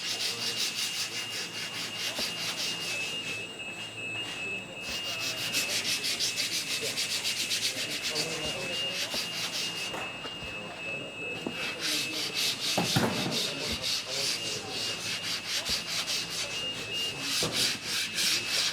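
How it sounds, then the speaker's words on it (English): A man sands wood by hand, a steady, continuous scraping and rubbing that runs close and fairly loud throughout, with brief pauses and a few sharper knocks partway through. "you watch a man sand"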